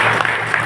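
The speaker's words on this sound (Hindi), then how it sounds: "तालियां जोरदार बजा लो क्योंकि आपकी शुरुआत हो गई है।" Audience clapping at a gathering, a brief dense burst of applause with no voices.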